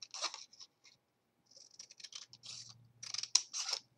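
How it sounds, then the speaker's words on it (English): Scissors trim a paper banner cut from a happy birthday sentiment while a mini notebook is being crafted, giving faint, close snips in short irregular bursts separated by pauses. "So I'm going to trim in, turn my scissor, and then trim like that."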